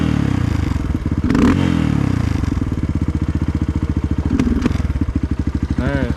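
Suzuki DR 200 motorcycle engine with a new carburetor, idling close by in a rapid steady thumping pulse that stumbles and bogs, with a brief clatter and a short voice near the end.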